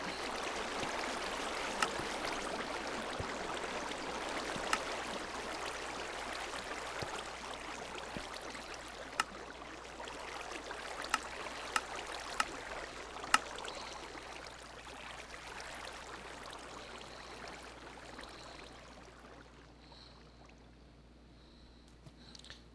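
Steady rushing water in Minecraft, a broad continuous wash from a water elevator, holding even for most of the stretch, with a few faint clicks on top, then thinning and fading quieter toward the end.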